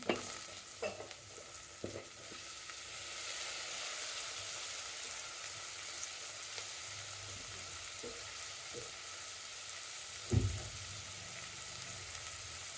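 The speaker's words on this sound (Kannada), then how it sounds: "ನೋಡಿ ಟೊಮೆಟೊ ಹಾಕ್ತಾಯಿದ್ದೀನಿ" Tomatoes go into a hot frying pan for carrot chitranna and sizzle in a steady, hissing fry, with occasional stirring clatter and a brief louder scrape near the end. No one speaks.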